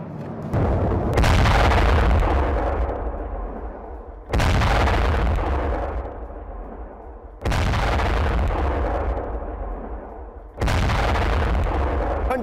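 Four heavy blasts from the bombing of a bridge in Iran boom out at roughly even intervals, each a loud, close impact that slowly rolls off into rumbling decay before the next one hits.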